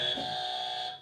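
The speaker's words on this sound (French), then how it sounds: "C'est au buzzer." An electronic quiz-game buzzer sounds once as a test, a loud steady tone lasting about a second before it cuts off.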